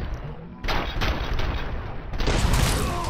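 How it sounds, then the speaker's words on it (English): A grenade shot goes off in the video game RoboCop Rogue City amid a loud, dense burst of gunfire, with sharp repeated blasts and a heavier booming surge toward the end. "Oh, that was a clean shot with a grenade"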